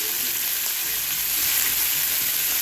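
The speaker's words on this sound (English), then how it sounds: "Sauteing some of these beef fajitas." Beef fajitas sauteing in a hot pan, a steady bright sizzle and crackle of frying meat, close and continuous with no talking.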